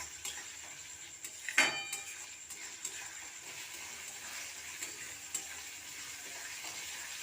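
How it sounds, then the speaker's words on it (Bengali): Garlic paste frying in a pan gives a soft, steady sizzle, with a few clinks of a utensil against the pan, including one sharper scrape near the start. "রসুনটাকেও আমি ভালোভাবে ভেজে নেব।"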